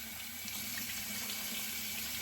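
Hot water runs steadily from a tap into a sink before a beard shave, a constant close rushing stream with no other sounds.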